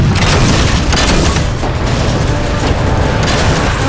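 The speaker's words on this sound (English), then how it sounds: "look at that thing shooting missiles" Missiles firing in the Halo 4 campaign, heard as a loud, continuous barrage of deep booming blasts and rumbling explosions that fill the whole stretch without a break.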